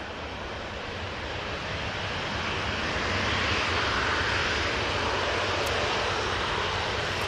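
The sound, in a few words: Airbus A321neo taking off at Manchester Airport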